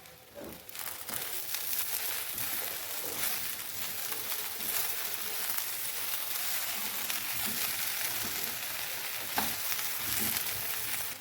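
Okra tossed with salt, cumin and other spices in a frying pan, a dense continuous sizzle with rustling, scraping stirs throughout and no talking.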